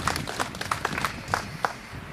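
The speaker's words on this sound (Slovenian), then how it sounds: "Aplavz, prosim." Scattered clapping from an audience at a commemoration ceremony, a short run of distinct, fairly close hand claps at an uneven rhythm with no talking.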